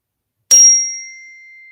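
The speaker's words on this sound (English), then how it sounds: "use a bell as the signal that we're starting our Bible time" A single bright bell strike rings out clearly at a church school, then its tone lingers and slowly fades away.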